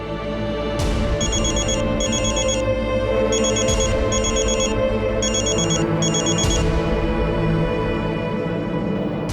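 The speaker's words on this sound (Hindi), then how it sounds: "मैं एक काम करता हूं, पाखी को फोन करता हूं" A telephone ringtone repeats in regular bursts while an outgoing call connects, a steady electronic ring pattern heard alone over a constant background hum, with no talk.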